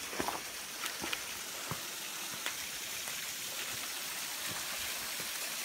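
Water from a small, low-flow waterfall trickles and splashes in a dry Tasmanian gully, with a soft, continuous hiss and faint scattered drips and splashes at moderate distance.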